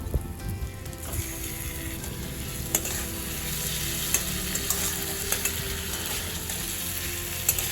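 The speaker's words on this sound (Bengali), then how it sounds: "এবার সেই ঝিঙেটা, সাতলানো ঝিঙেটাও আমি এর মধ্যে দিয়ে দেবো।" Sliced ridge gourd tumbles into potatoes and spice paste frying in oil, giving a steady close sizzle with scattered clinks and scraping stirs throughout.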